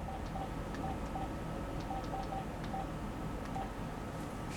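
A telephone is dialed, its short keypad tones beeping in quick uneven bursts over a steady low background hum with no voices.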